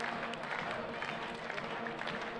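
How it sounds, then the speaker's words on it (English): Basketball fans on their feet in a gym, New Madrid County Eagles supporters cheering and applauding in a steady crowd roar, with an announcer's voice over it. "Eagle fans on their feet, cheering for their team."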